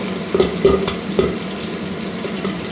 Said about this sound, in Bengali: মাছটা ফুটছে, খুব সাবধানে কিন্তু ভাজবেন, একদম এরকমভাবে ঢাকা দিয়ে ভাজবেন